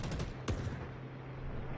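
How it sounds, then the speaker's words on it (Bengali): Sustained automatic gunfire rattles without a break in the video game Delta Force, loud and dense, with one sharper crack standing out early in the burst. "কন্টিনিউ গুলি চলবে"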